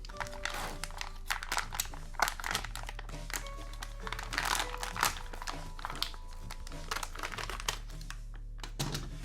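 A sealed plastic bag of SunLu 3D printer filament is cut open up close, giving crisp crinkling and snipping clicks over a low steady hum.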